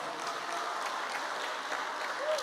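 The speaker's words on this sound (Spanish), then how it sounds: "¿Cuántos le dan una alabanza de palmas a ese Cordero de Dios?" A church congregation claps in praise during a sermon, a steady, moderately loud patter of many hands sustained throughout, with a brief vocal sound near the end.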